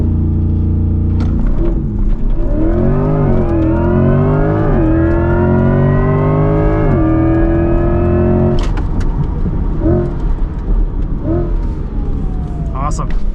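A 2024 Chevrolet Corvette E-Ray launches hard on a track, engine note rising loudly through a long pull with a gear change partway, then lifting off into lower roar and faint tire noise.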